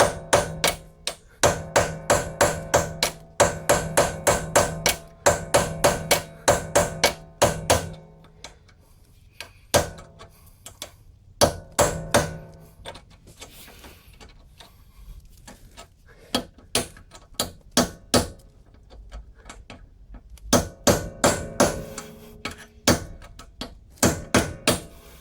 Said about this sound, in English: we're going to try here with a center punch and a hammer